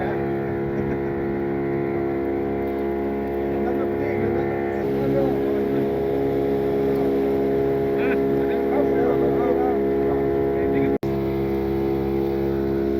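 A motorboat carries riders across a lake in Ooty, its engine giving a steady, close droning hum for the whole ride while voices chatter over it.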